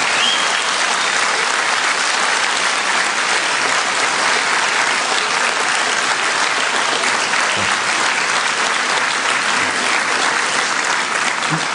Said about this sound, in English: could you give yourself a good big round of applause?